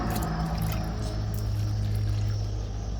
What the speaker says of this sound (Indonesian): kita mesti siram selepas kita alihkan ke dalam pasu